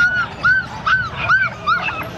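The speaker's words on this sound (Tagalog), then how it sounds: "Eto kay Galito, ano po yung aso mo na yan?" A Labrador at a pet market gives a run of short, high yelping barks, about five in quick succession, close by over a low background murmur.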